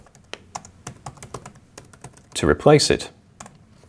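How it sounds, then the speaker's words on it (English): Typing on a computer keyboard while entering new text in desktop publishing software: a spaced series of crisp individual keystrokes, with a short burst of speech in the middle. "You can then start typing your new text"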